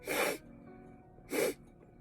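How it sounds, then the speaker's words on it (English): Two sharp, breathy sneezes about a second apart, close to the microphone, with quiet room tone in between. "Oh, I gotta sneeze."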